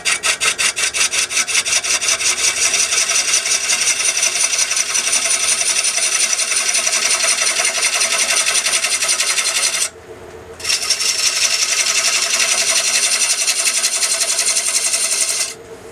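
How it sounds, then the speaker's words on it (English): Steady scraping cut of a 3/8 Ellsworth grind bowl gouge on a D-Way tool into spinning wood on a lathe, a continuous loud rasping hiss with a fine rapid pulse, broken by a brief lift near the end before cutting resumes. "The weapon of choice is going to be a 3/8 Ellsworth grind. This is a D-Way tool by Dave Schweitzer. We're going to start with a pole cut"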